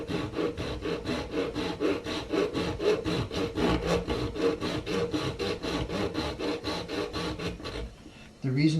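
A hand saw cuts tenor ukulele binding in steady, rapid back-and-forth strokes, a close rasping wood-sawing rhythm that stops near the end before a brief handling noise.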